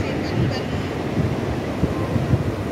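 Sea waves and wind on the beach at Mandarmani, a steady roar of surf with wind buffeting the microphone, loud and continuous, with faint voices under it.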